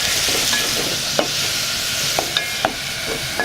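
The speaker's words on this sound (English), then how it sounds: "she first stir-fried some onions and carrots and caramelized them in some oil" Onions and carrots stir-fry in oil for a prawn curry in Lamu Island, Kenya, giving a steady, close sizzle with a few sharp scraping stirs over about three seconds.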